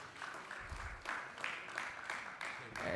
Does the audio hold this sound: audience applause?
yes